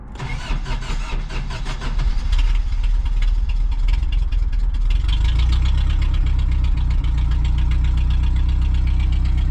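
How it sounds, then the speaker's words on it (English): Engine of a vintage Toyota 4Runner cranks and catches, then settles into a loud, steady idle with a low rumble and faint knocking, close up and without talk. "So I'm gonna go ahead and I'm gonna start this thing."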